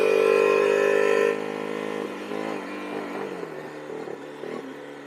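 A Honda CB 400 II motorcycle engine screams at high revs, then drops to a lower drone as it shifts or eases off, with a steady mid-pitched hum and a few brief surges afterward.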